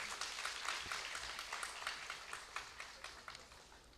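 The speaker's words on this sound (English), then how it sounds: "Can we have a huge round of applause" Soft, distant applause from an audience at an Indo-German cooperation conference as a director joins the dais, a dense patter of claps holding at low level throughout.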